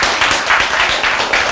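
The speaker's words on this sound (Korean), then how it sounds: "박수!" Applause from a congregation during a sermon, a continuous dense wash of many hands clapping at moderate loudness with slight rhythmic surges, no voices over it.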